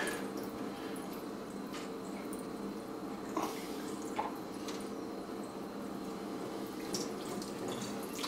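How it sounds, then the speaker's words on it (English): Tap water runs steadily over a Big Berkey filter element being rinsed, a constant faint splashing stream with occasional small drips and knocks. "I'm just going to rinse it all down again."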